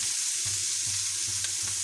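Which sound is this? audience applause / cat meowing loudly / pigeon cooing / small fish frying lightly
small fish frying lightly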